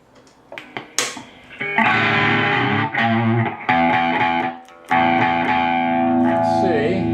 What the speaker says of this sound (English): migrate to the high distortion channel